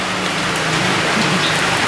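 Light rain falling steadily on a surface, a dense, even patter filling the moment with no pauses, fairly loud and close.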